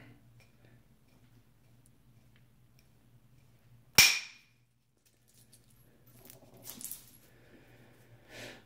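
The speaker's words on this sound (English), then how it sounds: "I'm going to hit this down, try to drive off this ridge right here." A percussion blow on flint at Flint Ridge lands as one sharp, loud crack. Softer scraping and handling noises follow in an otherwise quiet setting.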